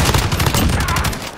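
Dense, rapid gunfire fills a multiplayer shooter game match, with overlapping bursts of automatic weapons and shots crackling loudly and continuously throughout.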